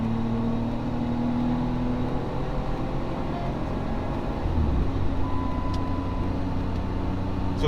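Car engine droning steadily from inside the vehicle on a highway toward Nakusp after a ferry crossing, the low hum rising slightly as it speeds up to overtake, constant and moderately loud with no talk.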